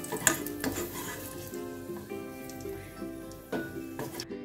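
Raisins frying in hot ghee in a pan for a Malabar sago payasam, a continuous close sizzle with metal spoon stirring and scraping against the pan, occasional clinks, no talking.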